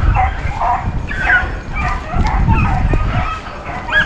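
A hunting dog on a rabbit hunt yips and bays in repeated excited bursts, fairly close and loud, with whimpering calls between them and a rustling background.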